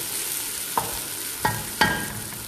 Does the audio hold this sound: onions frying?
yes